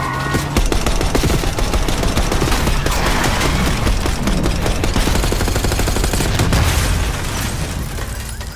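Dense, loud gunfire from the Call of Duty Black Ops 6 video game, a continuous barrage of rapid shots and bursts with booming impacts, sustained almost without pause throughout.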